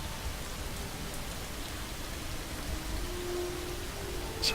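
Rain falls steadily in the video game Skyrim, a loud, even hiss of downpour with no breaks or distinct drops, and no one speaking.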